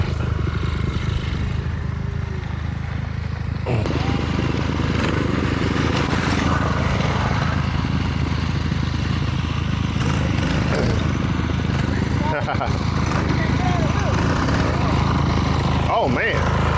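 A dirt bike engine drones and revs steadily while riding, close and loud throughout, with voices talking over it.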